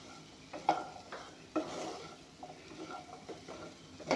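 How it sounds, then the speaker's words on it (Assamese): A spoon stirring onion-free frying food in a pan over very low heat, with scattered scraping knocks against the pan and a faint sizzle underneath, quiet and irregular, with no voices. "অলপমান লাৰি দিম, একেবাৰে জুইটো কমাই দিছোঁ।"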